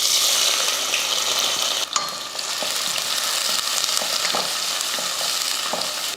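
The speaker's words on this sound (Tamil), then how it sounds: "வெங்காயம் நல்லா வதங்கிருச்சு" Onions fry in hot oil for vegetable biryani, a dense continuous sizzle close by, broken by intermittent scraping and clatter as a spoon stirs them through the pan, with no talking.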